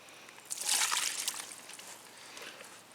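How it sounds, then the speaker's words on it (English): Water sloshing and splashing as more water is poured in at a carp fishing lake, a brief burst of trickling and slopping that swells and then fades to a softer dribble, close by. "Get a bit more water in."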